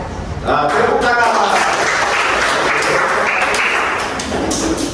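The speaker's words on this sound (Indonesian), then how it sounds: "Nah, tepuk tangan." In an Islamic-studies classroom, a teacher's voice is followed by students breaking into sustained, dense clapping that fills the room loudly, easing slightly near the end.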